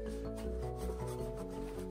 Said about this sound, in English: After drill some small hole, I countersink to avoid a crack on the fiberglass.